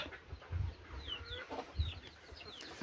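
Chickens cluck softly in a backyard setting, a few short low clucks and chirps scattered across a quiet moment, faint and close.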